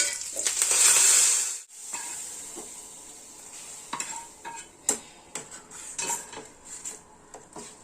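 Curry leaves sizzle and crackle in hot oil, with a bright burst of frying at the start, followed by a metal spoon scraping and clinking against the pan in irregular stirring strokes, close up and without talk.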